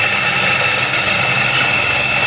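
A grinding machine with a capacity measured in kilograms runs loud and close, a constant droning, motor-like roar with a broad hiss and no pauses.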